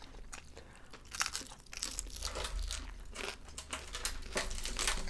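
Close, crinkly crunching and chewing as someone eats crispy, crunchy skin, with irregular bites and crackles running throughout at a soft level, with no talk over it.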